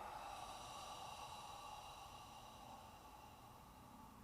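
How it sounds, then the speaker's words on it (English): A slow, steady exhale during a qigong breathing exercise, a soft continuous breathy rush holding even from start to finish at close range, with no talking. "Exhale."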